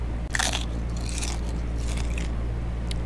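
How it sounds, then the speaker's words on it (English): Crunchy pizza being bitten and chewed in a horror video game, with several sharp crisp crunches in quick bursts over a constant low hum, no talk. "Some crunchy pizza!"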